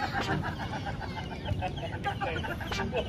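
Chickens cluck steadily around a coop beside a children's under-10 football sparring match, with a continuous busy chorus of hens close by and no talk over it.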